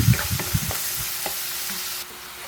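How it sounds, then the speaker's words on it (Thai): Pork neck stir-fries with chili after a splash of water is added, a close sizzling hiss with a few quick stirring scrapes at the start that settles into a steady fry. "แล้วเราก็มาใส่น้ำลงไปเล็กน้อยนะครับ ให้มีความคลุกคลิกหน่อยครับ ผัดต่อเลยครับ"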